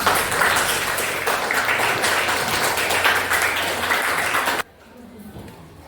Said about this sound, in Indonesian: Ya, berikan tepuk tangannya.